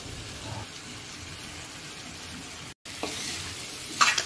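Prawns and potatoes sautéing in a pan with turmeric and Malvani masala, a continuous soft sizzle with a brief dropout, then a louder burst of frying and a few scraping stirs near the end.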